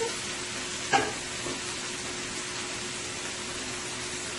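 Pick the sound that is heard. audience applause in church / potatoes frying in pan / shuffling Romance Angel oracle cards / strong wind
potatoes frying in pan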